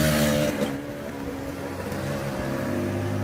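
A small Bridgestone 90 motorcycle engine from the Japanese tyre maker's motorcycle line runs at a steady, buzzy idle, loud and close with a constant hum and no talk.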